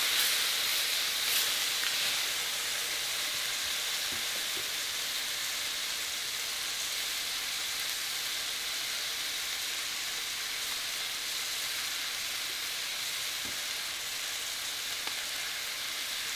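Seared tuna sizzles in a frying pan with a constant close hiss, steady throughout, the crackle easing slightly toward the end.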